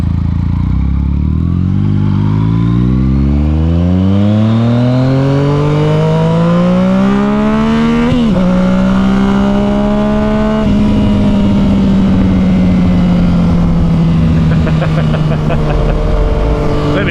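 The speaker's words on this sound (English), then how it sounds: "That engine decel sounds so good." Motorcycle fitted with an M4 exhaust, loud and close, revving up with rising engine pitch, then settling and decelerating with a deep, rough burble that crackles toward the end.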